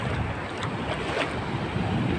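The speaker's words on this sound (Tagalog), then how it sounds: "Kaso sobrang laki ng mga alon dito eh." Steady rushing wash of large sea waves mixed with wind buffeting the microphone, continuous and fairly loud, with no voices, on a coast where lobsters are caught.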